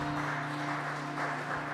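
A church congregation applauds together during a Sunday service, a steady wash of clapping from many hands held under a sustained low organ or keyboard tone.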